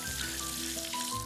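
Food frying in hot oil for stuffed peppers with salt cod, a continuous dense sizzle, loud and close throughout.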